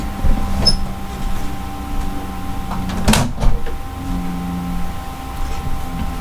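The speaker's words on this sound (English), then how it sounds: "Let me go shut that door." A door pushed shut indoors, one short thump or click standing out against quiet room hum with no talking.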